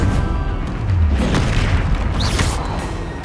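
A Depulso spell cast in Hogwarts Legacy bursts out as a loud, dense whooshing boom with crackling energy that stays full and sustained for a few seconds.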